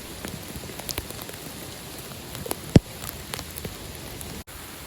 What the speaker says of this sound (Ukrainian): Град валить в повну силу по невеличким молодим посівам хурми.